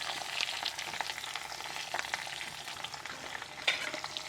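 Chopped onions and broken green chillies fry in a pan, a steady soft sizzle with faint stirring clicks and scrapes, fairly quiet and close with no talking.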